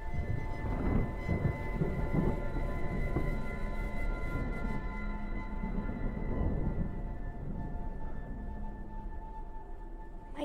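A thunderstorm with rain: a steady wash of rainfall under repeated low rolling rumbles of thunder, with a faint steady tone in the background that eases off toward the end.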